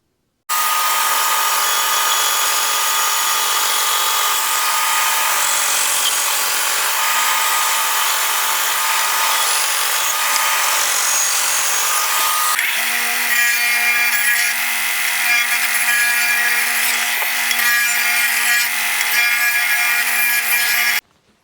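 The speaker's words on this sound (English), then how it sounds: "Got to cut 2 pieces that look like this so that the one frame can slip up against it." A power saw cuts ash wood pieces for a planter, a loud, close, continuous whine that shifts to a higher, tighter pitch partway through before cutting off abruptly at the end.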